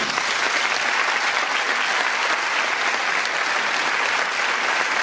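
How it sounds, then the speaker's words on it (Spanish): Audience applause at a charity gala in Ourense: dense, steady clapping from a large crowd, continuous and even throughout. "Aplauso para nosotras"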